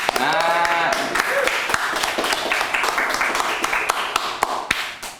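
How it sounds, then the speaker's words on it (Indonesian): An audience at a talk with a documentary director breaks into applause, a burst of scattered, fairly close hand claps that carries on after a brief voice at the start. "Bentar, kita tepuk tangan dulu nih"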